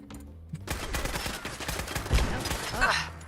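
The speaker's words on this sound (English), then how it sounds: "why is the turret firing at me?" Automated turret gunfire in the Fallout 4 video game: loud, dense rapid-fire bursts crackling continuously for several seconds, with a few heavier shot impacts standing out near the end.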